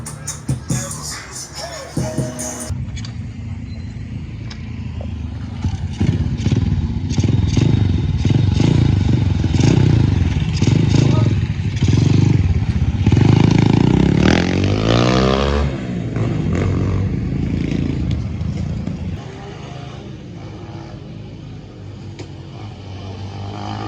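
A motorcycle rides over a bumpy, potholed road, its engine droning loudly and steadily while clattering thumps and scrapes from the rough surface come through for most of the stretch.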